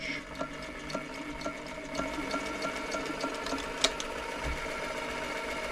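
An Elna Supermatic sewing machine runs steadily on a long stitch, a close, even mechanical whirr with a regular ticking rhythm and one sharper click near the end.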